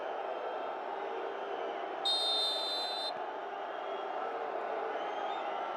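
Crowd at a football stadium in Saitama during a penalty shootout in an AFC Women's Champions League match between Urawa Red Diamonds Ladies and Wuhan Jiangda, a steady distant roar with a brief whistle-like tone partway through.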